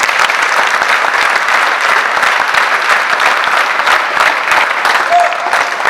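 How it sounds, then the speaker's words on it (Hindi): Loud, dense applause from a large audience at a comedy show for naval NCC cadets, a continuous close clapping wash that stays steady throughout, with a faint crowd murmur beneath. "चलो बहुत जोरदार ताली प्रेम जी के लिए बजाओ"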